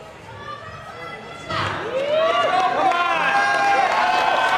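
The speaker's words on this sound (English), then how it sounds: "Crowd hyping Brooklyn up to try and get her to go" Crowd at a climbing competition cheering on a climber, swelling into loud whoops and shouts partway through, with an announcer's voice heard over the noise.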